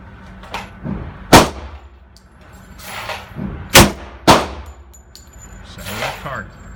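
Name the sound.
SIG P220 Combat Model pistol gunshots at a shooting range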